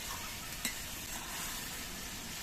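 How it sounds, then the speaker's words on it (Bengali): Vegetables being stirred in a pan while cooking a Bengali chhyachra dish, a soft continuous sizzle with one brief utensil scrape against the pan, no voices. "সবজিগুলো আর একবার নেড়ে ছেড়ে দিচ্ছি"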